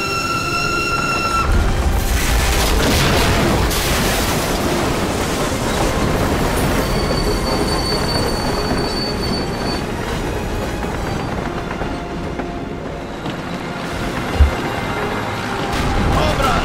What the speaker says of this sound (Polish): O, pociąg.